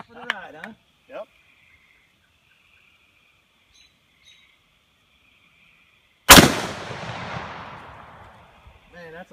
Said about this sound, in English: That's a big gun.